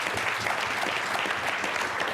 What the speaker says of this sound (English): I think we deserve an applause.